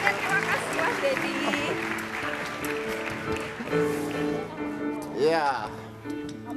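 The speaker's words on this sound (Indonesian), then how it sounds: "Kasih tepuk tangan dulu sekali buat Pak Endang." A studio audience at a television talk show claps for a guest, with applause running under a host's talk and then a burst of music near the end.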